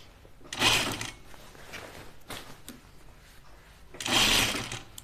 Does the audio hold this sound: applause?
no